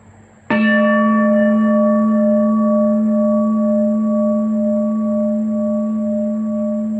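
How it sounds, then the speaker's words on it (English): A single meditation bell struck once during a Buddha Purnima mindfulness practice rings out clearly, its rich harmonic tone sustaining and slowly fading over several seconds, alone with no voices. "The wonderful sound of the bell brings me back"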